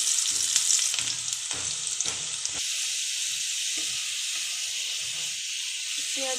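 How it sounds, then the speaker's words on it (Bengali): Sliced onions with a pinch of salt frying in hot oil until crisp, a steady bright sizzle that keeps going throughout, with someone talking over the first half and occasional stirring clatter. "আমি একই তেলে পেঁয়াজগুলো বেরেস্তা করে নেব।"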